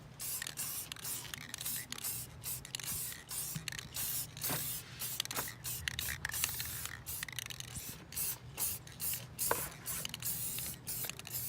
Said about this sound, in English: You want a nice shiny gold spray paint, and then you just spray over the whole item.